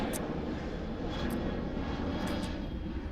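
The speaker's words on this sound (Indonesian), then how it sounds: "Ini suara pesawat nih." An airplane flies low over a house, a steady, loud engine roar that fills the whole stretch without letting up.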